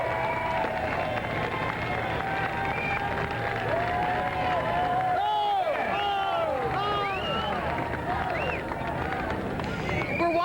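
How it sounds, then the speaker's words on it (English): A large crowd cheers and applauds continuously along the route of a 1991 Baltimore parade for Cal Ripken, a loud, sustained roar with a broadcaster talking over it. "Rick getting a big cheer from the crowd."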